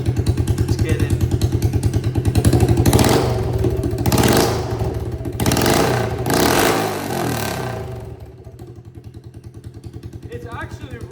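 A Honda CRF110 dirt bike engine revs hard through straight pipes, loud crackling bursts rising and falling, with a choppy idle between revs.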